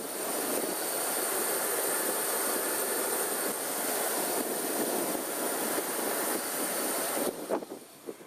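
Jet engines on a jet-powered wing worn by a flying jetman roar in a loud, steady, broadband rush that holds for several seconds before wavering slightly at the end.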